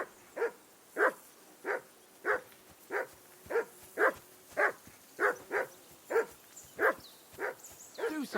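A dog in Kingdom Come: Deliverance II barks again and again in a steady rhythm, about a dozen sharp, mid-distance barks evenly spaced over a quiet ambient background with no speech.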